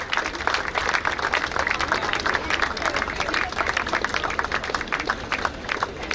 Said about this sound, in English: Keep the claps going, ladies and gentlemen.